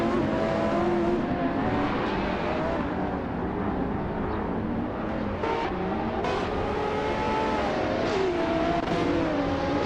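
Several race car engines in a racing video game roar together in a steady, continuous drone, with pitches rising and falling as AI-driven cars rev, shift and jostle in a forming pack, loud and unbroken throughout.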